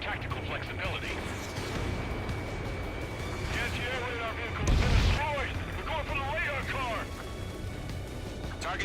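A heavy, booming explosion of a destroyed ground target bursts out midway through the Ace Combat 7 jet combat mission, rising over a constant roar of engines and radio chatter from pilots talking throughout.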